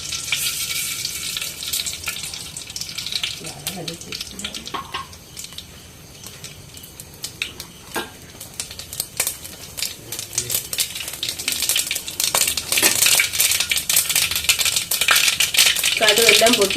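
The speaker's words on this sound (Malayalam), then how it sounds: "കടുക് എല്ലാം പൊട്ടിയിട്ടുണ്ട്." Mustard seeds crackle and pop in hot ghee in a pan, a dense run of sharp close spatters over a continuous sizzle that eases midway and then builds again, with occasional utensil rattles.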